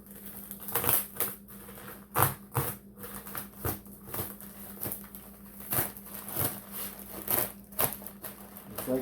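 A plastic garbage bag crinkles and rustles as an engine is unwrapped, with irregular crackling bursts and handling noises close by and a low hum underneath.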